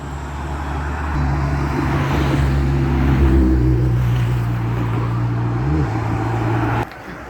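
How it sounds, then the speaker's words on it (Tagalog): Traffic rushes past on a busy road as a pedestrian waits to cross, with a continuous roar of cars and engine hum rising and shifting as vehicles go by, loud and close, then dropping off sharply at the end. "Ang bilis pa din ang mga sasakyan."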